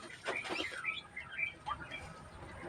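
Newly hatched ducklings give thin high peeping chirps, several short calls close by at low volume over faint background noise.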